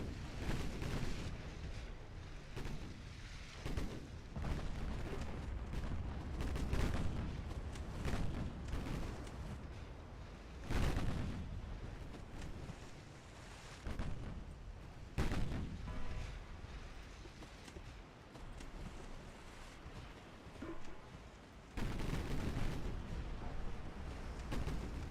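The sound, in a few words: battleship shells firing, video game Ultimate Admiral Dreadnoughts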